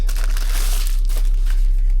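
Plastic packaging bags crinkle and rustle close up while a LiTHFLOW portable cordless tire inflator is unpacked, a continuous crisp crackle over a low steady hum.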